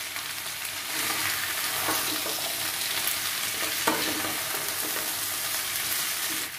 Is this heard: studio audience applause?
no